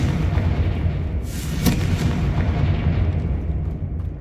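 A Confringo fire-blast spell cast in the video game Hogwarts Legacy bursts with a loud, sharp boom over a dense rumbling game soundscape and then fades into a sustained low roar.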